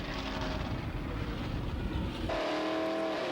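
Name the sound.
drag racing cars at Santa Pod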